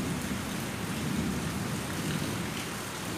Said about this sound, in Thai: ฝนตกแรงมากเลยข้างน